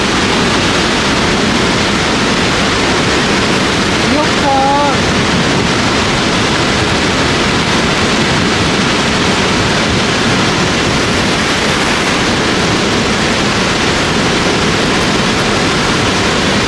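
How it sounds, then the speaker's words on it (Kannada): The 116-metre Unchalli waterfall on the Aghanashini river roars without pause in mist and light rain, a loud, steady wall of rushing water. "ದಟ್ಟವಾಗಿ ಕವಿದಿರೋ ಮಂಜು, ನೀರಿನ ಬೋರ್ಗರೆತ, ಸೋನೆ ಮಳೆ"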